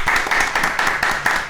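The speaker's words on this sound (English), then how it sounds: "Are you applauding yourself?" A man applauds himself with steady, brisk clapping, about eight even claps, close and fairly loud with no talk over them.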